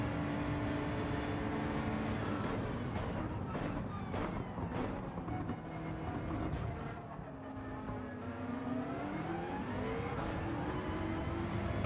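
A GT-R race car engine roars steadily in Gran Turismo 7 during an endurance race at Monza, holding a continuous loud drone with rising and falling pitch as gears shift, alongside other cars nearby.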